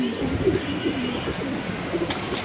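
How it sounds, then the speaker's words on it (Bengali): Four triple-patti red-gear pigeons, two pairs, coo steadily with soft repeated throaty calls, close by, with no talking. "এই হচ্ছে চারটা কবুতর দুই পেয়ার কবুতর"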